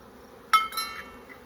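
Honey bees scooped by hand into a brood box hum faintly before a sharp scrape and clink of the scoop sets off a short swell of buzzing that quickly fades.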